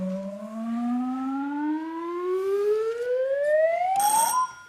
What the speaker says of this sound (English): Fingers on your buzzers.